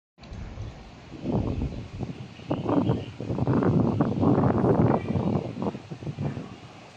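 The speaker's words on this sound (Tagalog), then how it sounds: "Ang hangin ngayon sobra" Strong gusts buffet the microphone in rough, uneven bursts, swelling and easing over several seconds with a low rumbling roar.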